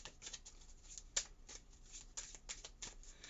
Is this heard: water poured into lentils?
no